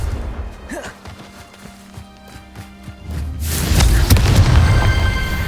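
A Confringo spell explodes in Hogwarts Legacy, a loud booming blast that swells up and rolls on to the end after a quieter stretch of thuds and game ambience.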